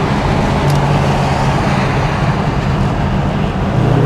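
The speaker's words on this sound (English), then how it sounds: "I'm just slowly climbing up RPMs." A Ford Shelby GT500 fitted with a Borla ATAK exhaust drones loudly and continuously as revs climb slowly without wide-open throttle, a dense, steady roar throughout with no speech.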